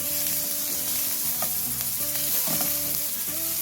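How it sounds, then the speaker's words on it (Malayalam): Chopped tomato sautéed in a pan for a prawn curry, a steady, close sizzle with light stirring scrapes, backed by a tonal music bed. "ഈ ടൊമാറ്റോയും കൂടി ഇട്ട് വഴറ്റി കൊടുക്കാം."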